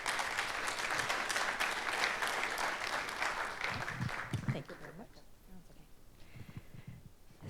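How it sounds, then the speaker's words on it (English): An audience claps steadily for about five seconds after a closing speech, then the applause thins to scattered claps and quieter room noise. "So let's give a round of applause to Nuala."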